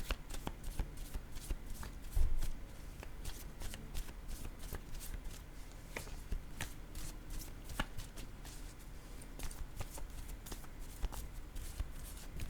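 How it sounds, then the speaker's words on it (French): Cards are handled and laid down during a card reading: a continuous fine papery shuffling rustle with rapid small flicks, and one duller thump about two seconds in. "Je vais déposer une carte ici."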